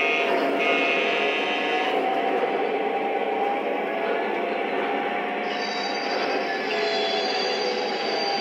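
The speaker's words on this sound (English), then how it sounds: "let's run some trains." An MTH Rail King model train runs steadily on its track, a continuous rolling rumble with a metallic whine and squeal layered on top, fairly close and unbroken for the whole stretch.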